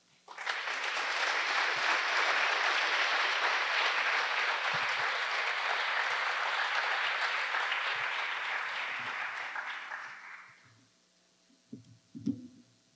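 A ceremony audience at a plaque dedication breaks into loud, sustained applause to welcome a speaker. The clapping holds steady for about ten seconds, fades out, and a couple of faint knocks follow.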